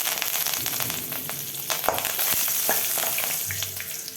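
Asafoetida, mustard seeds, urad and chana dal, curry leaves and dried red chillies frying in hot oil for a coconut rice tempering, a steady close sizzle with occasional stirring scrapes and crackles throughout.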